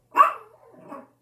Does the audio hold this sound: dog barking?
yes